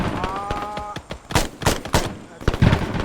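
Gunfire from the video game ArmA 3, in a Vietnam-era mission, cracks out as several loud, close single shots and short bursts, with a voice briefly heard at the start.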